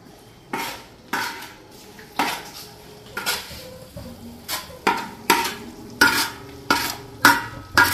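Onions sautéing in a pan are stirred with a metal spoon, giving a run of loud, regular clanks and scrapes against the pan roughly every half second over a faint sizzle.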